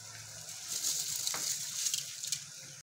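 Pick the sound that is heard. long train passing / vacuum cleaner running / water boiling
water boiling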